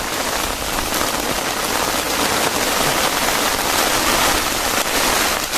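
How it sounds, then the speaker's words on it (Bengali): Heavy rain pouring down outdoors beside a fishing spot, people sheltering under umbrellas; a dense, loud, unbroken hiss of drops drumming on surfaces, steady and close. "প্রচুর পরিমাণে বৃষ্টি হচ্ছে"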